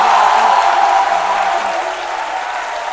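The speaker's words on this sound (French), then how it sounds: "je vais vous demander d'applaudir ici mes chroniqueurs autour de cette table" Studio audience applauding the columnists seated around a morning radio-TV show table, loud dense clapping that fades slightly toward the end, with a faint voice underneath.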